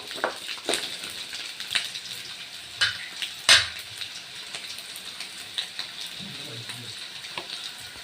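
Garlic sautéing in a pan for a Tamil garlic chutney, a quiet continuous sizzle broken by occasional spoon scrapes and light clinks, with no voices.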